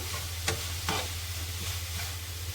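Modak filling, sweet coconut stuffing with cardamom powder and dry fruits, being stirred in a pan, giving soft scraping and rustling with a couple of brief spoon knocks over a steady low hum.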